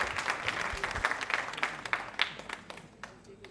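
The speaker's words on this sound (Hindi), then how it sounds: "तालियां जोरों से बजाइए इनके लिए" An audience at a quiz show claps loudly. The applause is dense and energetic at first, with sharp individual claps standing out, then gradually thins and fades toward the end.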